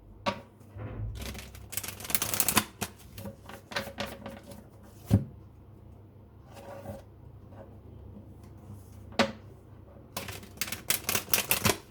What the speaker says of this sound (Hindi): चलिए अब टैरोट से कुछ कार्ड्स निकालते हैं।